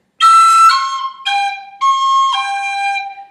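A high whistle plays a brief phrase of four notes from the tune Kitty's Rambles, some slurred together and some tongued, clear and close with no voices.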